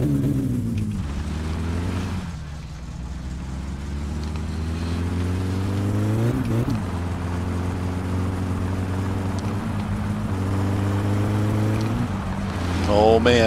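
A car engine in the driving game My Summer Car drones steadily and loudly, its pitch climbing as it revs and then dropping sharply at several gear shifts.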